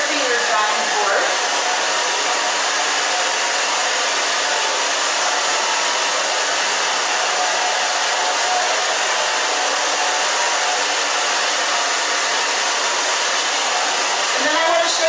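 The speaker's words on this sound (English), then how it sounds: "Just move the blow dryer back and forth and your fingers back and forth." A hair dryer blows steadily at close range, a loud continuous whoosh with a slight shift in tone at the start and end.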